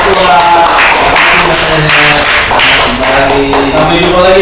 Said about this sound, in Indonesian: Beri tepuk tangan dan selamat datang untuk Pak Ketua.